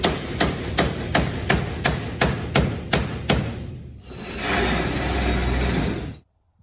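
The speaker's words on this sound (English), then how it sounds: "I have to whack that with a hammer to get it over the nut a little bit" About a dozen sharp, evenly spaced hammer blows strike wood in a steady rhythm while fitting a drop saw bench, followed by a few seconds of a loud, continuous whirring noise that cuts off.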